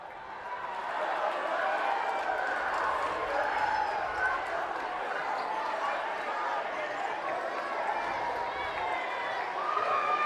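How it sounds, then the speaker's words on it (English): Home crowd at a Highland high school boys basketball game against Viewmont, roaring after a two-hand dunk; a steady, somewhat distant wall of cheering that swells in and holds, with a commentator talking over it. "the Highland crowd going crazy"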